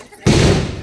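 A firecracker goes off with one sudden loud bang and a short rumbling tail during an outdoor Tamil village street drama performance (Panchala Kuravanji) in Kambainallur.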